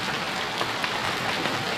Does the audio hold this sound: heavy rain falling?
yes